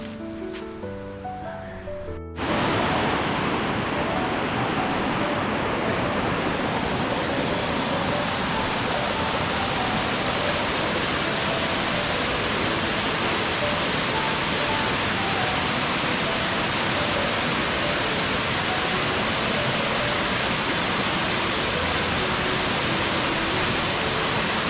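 King Creek Falls, a 70-foot waterfall dropping to a small beach, a loud, continuous broadband roar that starts abruptly after a brief quieter moment and holds steady and close.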